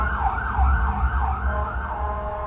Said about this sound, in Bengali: অ্যাম্বুলেন্সের আওয়াজটা শুনলে নীলাঞ্জনার বুকের ভেতরটা আজও ছ্যাঁত করে ওঠে